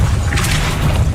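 A Depulso repelling spell cast in Hogwarts Legacy, a short, heavy whooshing thump with a low rumbling body and a brief airy burst on top, loud and close, with no voices.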